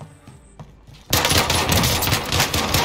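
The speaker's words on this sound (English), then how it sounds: "I'm getting shot from top." Video game gunfire bursts in loud and close after a quiet second, rapid automatic shots continuing steadily until the end.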